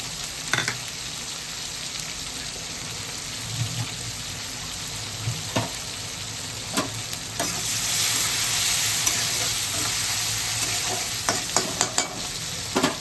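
Tomato, green chilli and grated ginger frying and being stirred in a pan, a steady sizzle broken by scraping stir strokes and clinks, with a louder burst of hiss midway.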